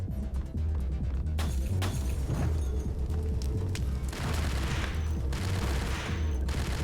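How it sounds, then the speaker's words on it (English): Sustained gunfire in the video game Max Payne, rapid repeated shots and booms forming a dense, loud barrage with no gaps, heard without talk. "I did just use 50 rounds to shoot across a room."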